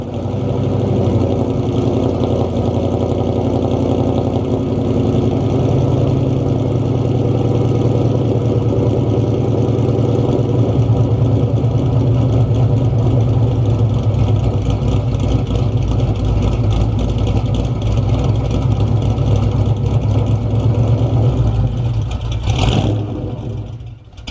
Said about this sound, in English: Well, the car is definitely loud